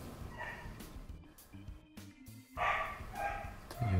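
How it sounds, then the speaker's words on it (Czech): Dog barking within a Minecraft game session, a few short barks and yips at moderate distance amid game sounds and faint background noise. "Pes štěká, asi slyšíte."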